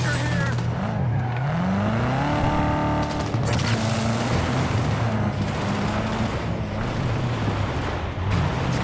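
Car chase in the Cyberpunk 2077 video game, with loud engines revving and rising in pitch, tires skidding and bursts of gunfire, a dense continuous roar of game action throughout.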